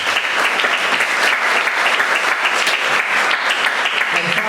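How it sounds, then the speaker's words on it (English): A school jazz concert audience at NMHS gives a loud, dense round of applause, with many hands clapping close together in a steady, unbroken roar that fills the whole stretch. "Give yourselves a round of applause."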